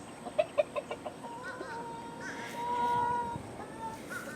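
Backyard chickens answer a call with a run of short, evenly spaced clucks, then softer drawn-out cackling and murmuring, fairly close and without talk.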